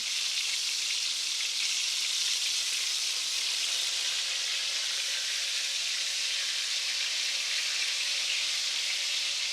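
Browned pork medallions sear in a hot pan just after being flipped, giving an even, loud, continuous sizzle like dense rain with no pauses and no voices.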